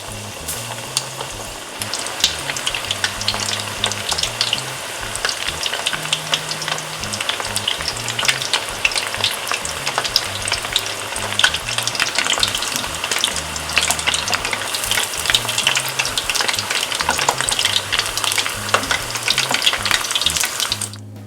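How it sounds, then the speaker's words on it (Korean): Loud, dense sizzling and crackling of starch-coated pork ribs deep frying in hot oil, continuous throughout with no voices. "달군 식용유에 전분 후 묵힌 돼지갈비를 넣고 튀깁니다."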